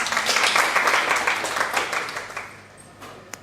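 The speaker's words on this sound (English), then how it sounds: "A round of applause." A lecture audience claps in a burst of applause that is loud at first and then thins out and fades, with a few scattered claps near the end.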